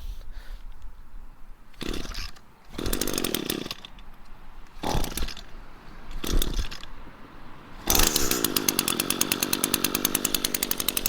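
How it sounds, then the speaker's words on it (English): An Echo 2-stroke power edger is pull-started. Several short sputtering bursts are followed by the engine catching and settling into a steady, close, buzzing idle with no talk. "Pretty easy, starts up. Just gonna let it warm up before I use it"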